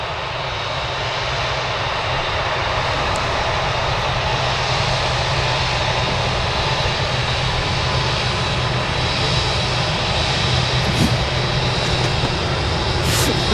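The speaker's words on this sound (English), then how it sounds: "Here we go, the Emirates A380 taxiing past." An Emirates Airbus A380 airliner taxis past at Manchester Airport, its engines producing a steady, continuous roar that holds at an even loudness throughout, with no voices heard.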